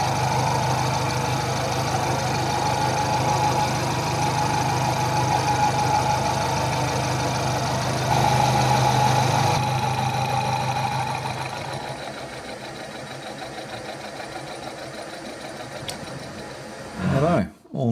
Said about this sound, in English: we'll get the second one set up in the milling machine, and we'll take that that radius out